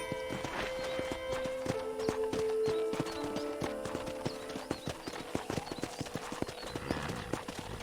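Steady horse hooves clip-clop at a walking pace in the Red Dead Redemption video game, layered with faint game ambience and a sustained musical tone; a short whinny rises near the start.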